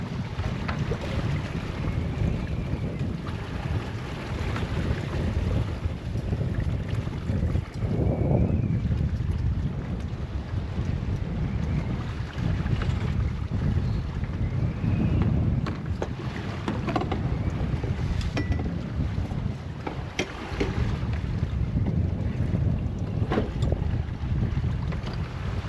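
A sailboat runs downwind with the waves at sea, with continuous rushing water along the hull and heavy wind noise, occasional thumps and surges rising through the steady roar.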